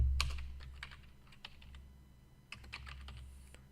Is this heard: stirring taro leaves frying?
no